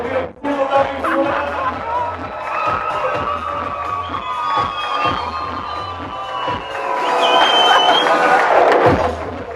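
A crowd at a Bulgarian wedding claps and cheers for the newlyweds, steady rhythmic clapping under a band's beat, with whoops and shouts that swell louder toward the end.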